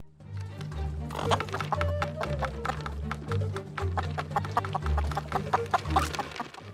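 Heihei, the rooster from Disney's Moana, clucks and squawks in quick repeated bursts over steady low background sound, with other animal-like noises mixed in.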